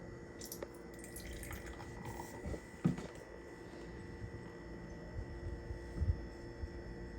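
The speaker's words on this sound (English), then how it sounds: "But first, we must pour some beer." Beer is poured into a glass in a kitchen, faint liquid splashing and dripping with a few sharper clinks and trickles, quiet and close against a low steady hum, with no talking.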